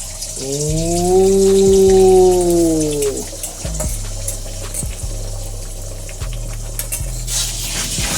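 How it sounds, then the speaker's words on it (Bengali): Beaten egg is poured into hot oil in a pan while cooking prawn chowmein. A rising whistling tone comes first, then a continuous sizzling hiss broken by soft knocks. "এবার আমরা হচ্ছে তেলের মধ্যে দেবো"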